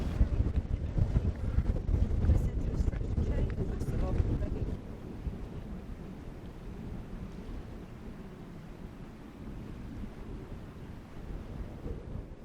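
Wind gusting over the Isle of Skye, buffeting the microphone with loud, rumbling low roar for the first few seconds before easing to a steadier, softer wind blowing.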